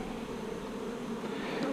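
A dense, steady drone of many honeybees buzzing close by during work on an October nuc colony, with hive frames being moved. The hum holds at an even level throughout.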